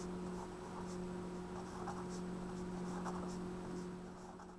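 Handwriting during a math lesson, faint soft scratchy strokes of a pen in short bursts over a quiet steady hum.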